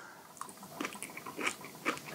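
Someone chews a mouthful of coleslaw, producing close, soft wet crunches and squishy bites in an irregular rhythm, with no talking.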